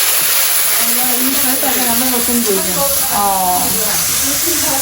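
Ground onion and chilli paste hits overheated oil, a loud, constant hiss that runs the whole time while a person talks over it.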